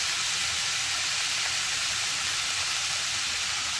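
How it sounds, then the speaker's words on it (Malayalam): Onions with salt sautéing over a medium flame for an egg masala curry, giving a steady, close broadband sizzle that stays even throughout. "ഇനി നമുക്ക് നന്നായിട്ട് വഴറ്റിയെടുക്കണം"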